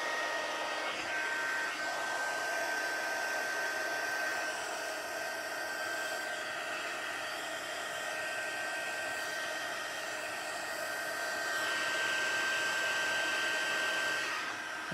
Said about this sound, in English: just put some heat on the other side to flatten it a bit